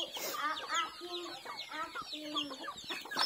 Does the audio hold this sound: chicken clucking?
yes